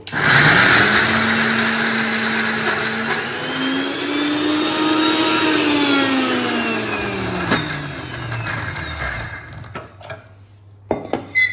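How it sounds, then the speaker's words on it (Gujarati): An electric mixer grinder runs loud and close, grinding soaked dal with a little water for sev khamani, its motor whine rising and falling in pitch before cutting off into a few clunks. "હવે આપણે એને પીસી લઈશું."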